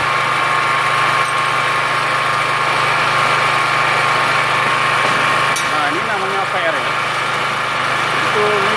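A Multipro generator engine powering a 450 A welding machine runs steadily at close range, a continuous mechanical drone with a faint high whine, while someone talks over it in places.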